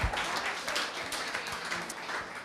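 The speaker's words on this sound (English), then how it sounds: "Give me a great big round of applause." Applause from a dance-community audience at a Newcastle media launch, a dense, steady wash of many hands clapping throughout, moderately close and without clear gaps.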